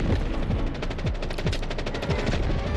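Gunfire in the video game Delta Force, a dense sustained automatic burst of rapid shots with heavy low thumps, loud and continuous with no talk.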